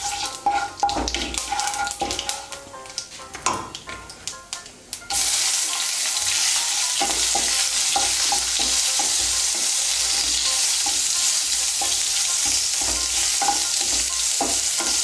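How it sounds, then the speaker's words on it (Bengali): Chopped tomato is stirred in a pan for a vegetarian soybean curry. Scraping spoon strokes come first, then a steady loud sizzle of frying that continues without pause. "দিয়ে একটু নাড়াচাড়া করে নিয়ে এর মধ্যে আমি টমেটো কুচিটা দিয়ে দেব।"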